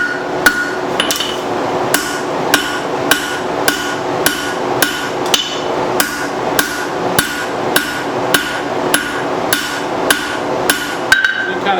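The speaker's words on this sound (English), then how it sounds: "while I'm hammering." Hammer blows strike hot steel being forged into double hooks, a steady run of about twenty sharp metallic clangs at a regular rhythm, close and loud over a low fan hum, with no talking.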